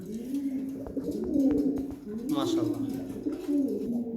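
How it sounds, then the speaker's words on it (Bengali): Pigeons coo softly in the background while someone talks over them, with a few brief chirps mixed in. "এটা মাদি কবুতর হ্যাঁ"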